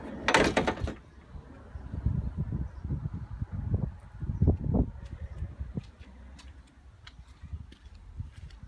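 The entrance door of a 2017 Swift Autocruise Select 184 motorhome opens with a loud rattling burst, then softer clunks and knocks follow as it swings and shuts, with faint ticking in the background.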